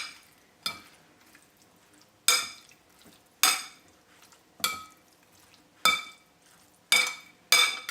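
Fish fillets being seasoned with pepper for tacos are mixed in a bowl, giving about seven sharp clinks and scrapes at roughly one-second intervals with quiet gaps between them.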